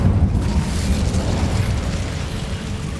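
A fiery Incendio spell bursts out in Hogwarts Legacy, a loud rumbling whoosh with a low roaring body that sustains steadily for a few seconds with no talking over it.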